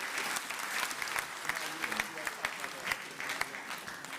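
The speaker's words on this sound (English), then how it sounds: "You can give another round of applause to the Honorable Premier." A round of applause for the Honorable Premier at the Eastern Cape State of the Province Address, a steady mid-level clapping from an audience that continues throughout with sharper individual claps standing out.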